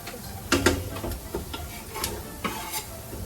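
Onions sizzle gently in a pan while a utensil stirs and scrapes them in irregular clinks and taps, close and moderately quiet.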